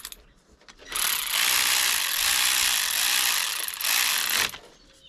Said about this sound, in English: Set the electric ratchet to tighten.